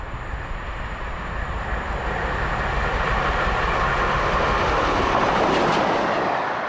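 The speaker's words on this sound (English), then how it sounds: "This is Taw Valley passing Devon at speed." Southern Railway West Country class steam locomotive Taw Valley races past in Devon, a loud, continuous rushing roar with rail clatter that swells and stays close throughout.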